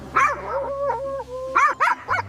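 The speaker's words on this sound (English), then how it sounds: "I was still barking into the air." A puppy barking on a mountain hike while being held and carried, with several short, high yips and whimpering barks in quick succession, loud and very close.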